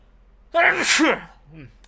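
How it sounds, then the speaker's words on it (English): A single loud, close sneeze with a sharp burst of breath, followed by a brief soft vocal sound. "Make sure to sneeze into your elbow"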